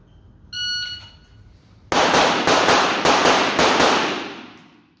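Four or five sharp gunshots ring out in quick succession during a shooting drill at two targets, loud and close, after a brief electronic beep from a shot timer.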